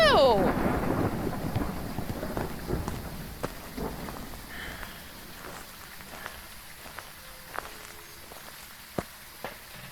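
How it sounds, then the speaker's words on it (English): Heavy rain pours steadily in the Phasmophobia game, with a loud opening roll of thunder that fades into sporadic sharp drips and small knocks against a constant wash of rainfall. "Oh, it's heavy rain too!"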